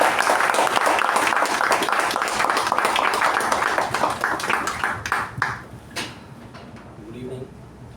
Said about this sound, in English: With a huge round of applause, please welcome Senior General Manager, MECON Ltd, Bangalore, Mr.